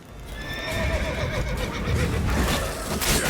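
A close, loud whinny from Roach, the horse in The Witcher 3, followed by steady hoof clip-clops and game ambience, with no one talking.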